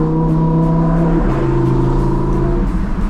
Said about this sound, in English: Once I hop on this highway, I'm gonna show you guys how loud these burbles get.